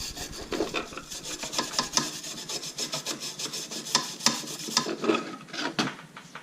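Scrubbing and cleaning a Nissan 240sx fuel sending unit in a garage, a rhythmic rasping brush scrub in quick back-and-forth strokes, close and alone.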